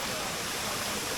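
Waterfall at the end of a boat trip into the Malaysian jungle, a steady broadband roar of falling water filling the whole clip without pause.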